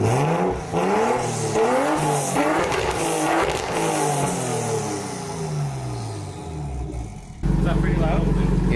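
Straight-piped Nissan R32 Skyline engine revving hard and loud, rising and falling through several rev pulls with a raw, raspy exhaust note before cutting to a steady idle, with voices talking underneath.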